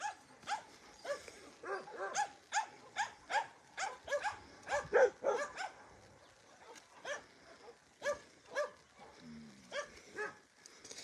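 A big dog at a shelter barks repeatedly in short, fairly regular woofs near the listener, with a few softer whines between the barks and no speech.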